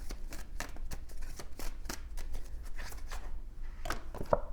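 Oracle cards being shuffled by hand, a quiet, rapid run of soft riffling flicks and taps that continues steadily.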